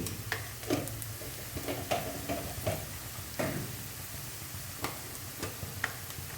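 Sliced onions sizzle steadily in a pan with chili powder going in, a continuous frying hiss broken by scattered clicks and taps of a spoon stirring, close and moderately loud.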